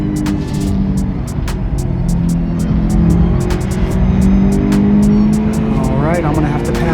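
A Mitsubishi Evo 9 races in a video game, its engine droning steadily and loud while someone talks over it almost the whole time. There are ticking clicks and a short squeal near the end.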